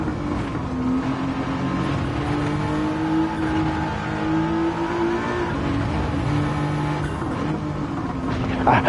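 A stock car in Gran Turismo 7 drones along with a steady, sustained engine note that shifts pitch slightly as it drives, loud and continuous with no speech over it.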